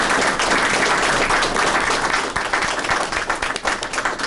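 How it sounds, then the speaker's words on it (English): Council meeting attendees break into applause after a presentation on a road salt budget plan, sustained crowd clapping that thins into scattered, distinct claps toward the end. "round of applause for a very nice job"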